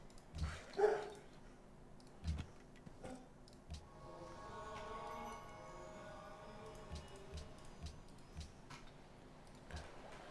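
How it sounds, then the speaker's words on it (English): A dog barks excitedly indoors at home, giving a few sharp barks early on and then a longer whining, whimpering stretch, faint and somewhat distant, among scattered clicks. "And the dog's going bonkers."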